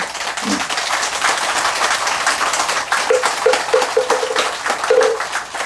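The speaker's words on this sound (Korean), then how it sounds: "잠깐 박수로" An audience at a Buddhist dharma service marking a meditation center's anniversary claps to welcome an arriving guest professor; fairly loud, continuous applause with a few brief tonal sounds rising over it toward the end.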